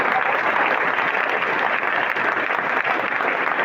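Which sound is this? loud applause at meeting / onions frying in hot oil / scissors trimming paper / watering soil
loud applause at meeting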